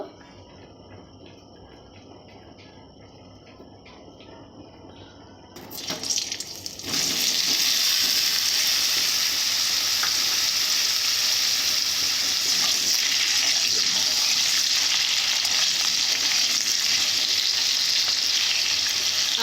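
Potatoes with salt hit a hot wok after a few quiet seconds: a sudden burst of sizzling crackle that settles into a loud, dense, steady fry for the rest of the time, with no talking.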